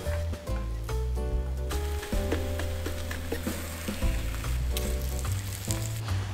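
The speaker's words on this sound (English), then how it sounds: "Then pour the egg in a thin layer, tilting the pan. Cook each side, but do not brown the eggs." A thin egg crepe sizzles in an oiled pan, a steady bright frying hiss running throughout beneath a loud background of tonal music.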